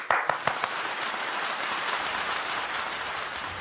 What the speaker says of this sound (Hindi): जोरदार ताली और स्वागत करेंगे